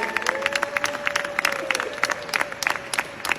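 An audience at a celebration claps in quick, uneven bursts, with a sustained musical tone running underneath and some crowd noise mixed in.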